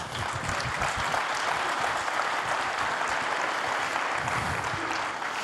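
Sustained audience applause following a joke at a technical conference talk, a dense steady wash of clapping from a crowd lasting several seconds, fairly loud and uninterrupted.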